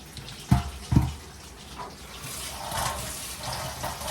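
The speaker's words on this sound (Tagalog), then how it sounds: "Hugasan ko tong lettuce." Tap water runs steadily into a sink while lettuce is rinsed, with two sharp splashy bursts near the start followed by a softer, continuous flow.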